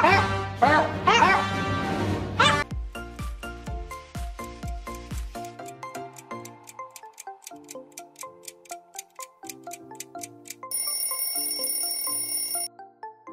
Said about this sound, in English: That's right, this is Gabe the Dog Star Wars.